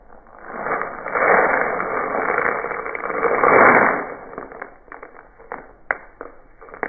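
Loose fill rushing through a homemade rain stick weapon, a loud granular cascade that fades and then settles into a few sharp clicks and taps as the load locks into place.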